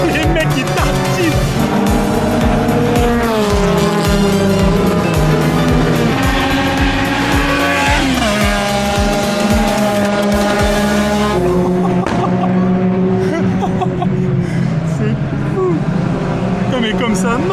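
Modified Japanese track cars, including turbo machines, race on a circuit with loud, sustained engine roar rising and falling through gear changes, a voice speaking over the racket throughout.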